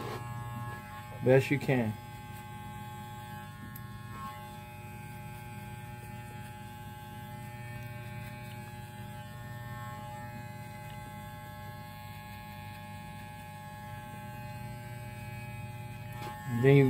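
Walmart hair clipper cutting a skin fade, blade closed to blend on an angle, giving a steady close electric buzz with mains-like hum throughout, with brief speech at the start and end.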